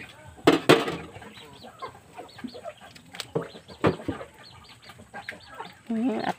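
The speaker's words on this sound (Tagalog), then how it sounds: "Native siya nga manok" A native chicken clucks in short, irregular bursts at close range, with scattered rustling and a few louder squawks in between.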